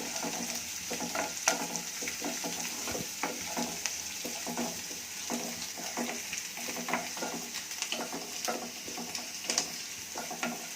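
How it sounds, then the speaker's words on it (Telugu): Green chillies frying over a high flame in a pan, close crackling sizzle broken by frequent quick stirring scrapes and spatula taps. "పచ్చిమిర్చి కొంచెం వేయించుకోవాలి. ఫ్లేమ్ ఎక్కువ చేసుకున్నాము."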